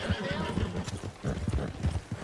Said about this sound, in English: the reins continue to slap the tail end of that horse